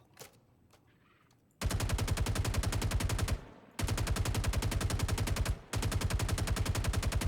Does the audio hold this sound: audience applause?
no